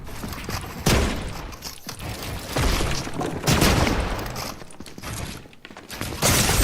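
Gunfire in Fortnite, a dense, loud volley of shots and bursts with mechanical clatter, coming in several waves over a few seconds without any talk.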